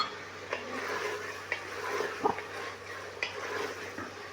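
Coriander and spices being roasted and stirred in a pan while cooking a ridge gourd (tori) sabzi: faint steady sizzle with a few soft scraping and clinking stirs of the spoon against the pan, no talk.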